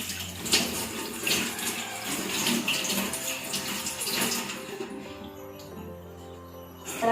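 Water runs from a tap as hands are rinsed clean, a steady splashing rush that fades away toward the end, close and moderately loud.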